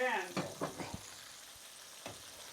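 Popcorn chicken fries in a pan with a soft steady sizzle, broken by a few brief clatters of stirring and turning, close and quiet, with a voice talking faintly in places.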